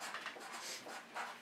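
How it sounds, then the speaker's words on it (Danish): Pen or marker scratches across paper or a board while a DNA term is written out during a biology lesson, soft rhythmic rubbing strokes, faint and close, with no talk. "Det skriver jeg lige."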